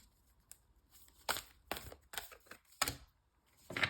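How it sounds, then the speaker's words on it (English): Tarot cards being shuffled by hand in a quiet room, a series of quick papery riffles and slaps in uneven bursts, close and crisp, separated by brief near-silent gaps. "2 more shuffles."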